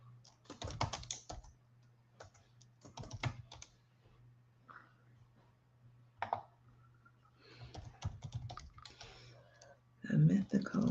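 Keyboard typing, entering the name of a tarot deck, in short clustered bursts of clicks separated by pauses, fairly close and moderately loud, with a steady low hum underneath.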